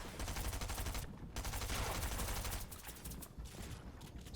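Rapid gunfire from a Fortnite solo cash cup match rattles in dense bursts, loud and nearly continuous with brief gaps between volleys.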